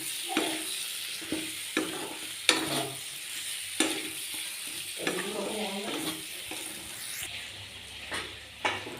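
Tomatoes stirred in a pan without oil, starting to catch on the bottom, give a soft sizzle broken by repeated scraping strokes of a spoon, close and fairly quiet, with no talking.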